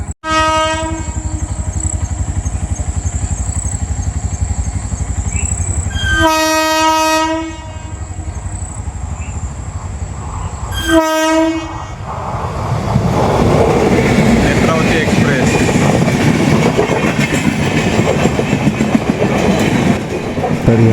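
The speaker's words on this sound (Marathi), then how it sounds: "ट्रेन क्रॉस होईपर्यंत" The Netravati Express (16345) approaches a level crossing with a long horn blast and two short toots, then thunders past close by with a heavy rumbling clatter of wheels and wagons.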